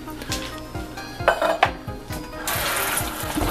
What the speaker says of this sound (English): Drain the olives that you're not going to use.